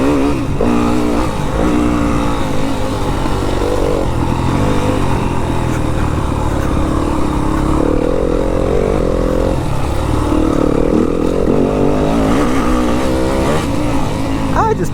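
A motorcycle is ridden hard and leaned over into a turn, its engine loud and close throughout with continuous revving and shifting pitch under heavy wind noise.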